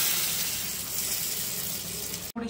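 A Marathi-style dal tadka tempering meets the dal with a loud, continuous hissing sizzle that holds steady for about two seconds, then cuts off abruptly.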